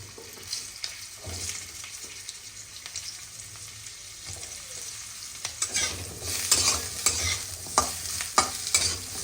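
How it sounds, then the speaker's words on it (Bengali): Potatoes fry in hot oil in a kadai wok, with a soft sizzle and a scraping stir that grows louder and more spattery toward the end. "আলুগুলো ভাজতে দিয়ে দেব।"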